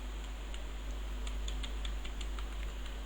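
Light, quiet tapping of keys on a computer keyboard while a C++ program is typed, irregular clicks over a steady low hum.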